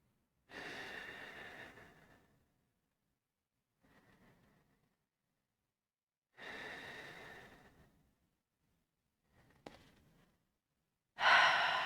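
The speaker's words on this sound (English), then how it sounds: "Take 3 more deep breaths." Deep breathing during a relaxing yoga practice, several slow airy inhales and exhales spaced a few seconds apart, close and soft with near silence between them.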